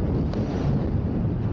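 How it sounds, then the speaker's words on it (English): Strong wind gusting across the microphone while riding an electric unicycle during a wind advisory, a loud, constant low roar and buffeting that fills the whole clip, with no voices. "the wind is catching it more"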